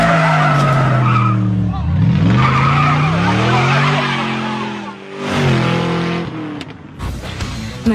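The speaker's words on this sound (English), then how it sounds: "The roar of the engine just tickles me" A Camaro engine roars loudly as its tires squeal in long sliding wails, the pitch bending up and down over several seconds, with a voice briefly heard beneath.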